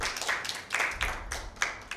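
Audience applause for Team B at a Bible quiz with schoolgirls from a cathedral school, a few bursts of hand clapping in uneven waves, moderately loud with no talking.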